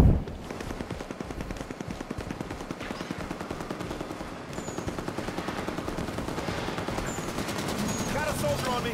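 Rapid automatic gunfire from the Halo 5 video game rattles continuously through the whole stretch, dense bursts with a few sharper whizzing shots near the end, loud and alone.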